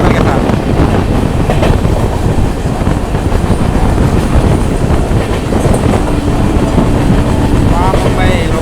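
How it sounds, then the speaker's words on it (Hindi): A Mumbai local train rumbles along a parallel track beside a moving express, with a loud, continuous roar of wheels and rail clatter and faint squeals near the end. "पैरेलल मुंबई लोकल के साथ।"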